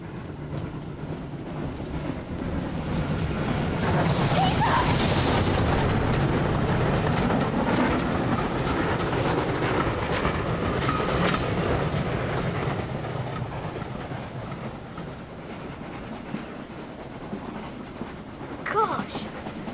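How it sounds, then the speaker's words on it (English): A steam train runs past on a railway, a broad rumbling roar that swells, holds loud for several seconds, then fades as it moves on, with voices briefly under the noise. "A train!"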